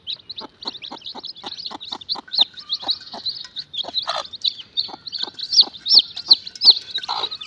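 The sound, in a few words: native hen with chicks clucking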